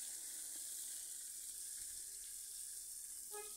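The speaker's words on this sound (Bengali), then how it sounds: "এবার আমি ভালো করে তেলের সাথে কাঁচা টমেটো লাড়িয়ে চাড়িয়ে দিচ্ছি" Green tomatoes frying in hot oil with browned garlic, stirred in the pan, giving a faint, steady, even sizzle throughout and a small tap near the end.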